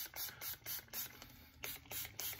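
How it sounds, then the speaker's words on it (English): Cleaner sprayed onto python snakeskin boots in a run of short, hissing bursts, repeated about eight times in quick rhythm, close and fairly quiet with no talking. "I spray a lot on there."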